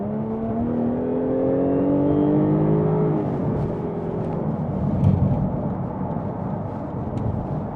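A 2014 Jaguar F-Type 3.0 V6 S automatic accelerates hard onto the M6 motorway, its engine note climbing through the gears in a rising, sustained roar heard from inside the car, with road noise beneath.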